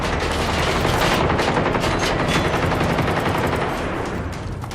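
Rapid automatic gunfire from the shooter video game Generation Zero, a dense, continuous loud burst of shots rattling on for several seconds with no pause.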